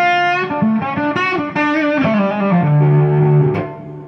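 Electric guitar run through a Soul Driven AH overdrive pedal plays a loud, sustained sequence of notes with warm, compressed distortion, ending on a held note before a brief pause, alone without talk.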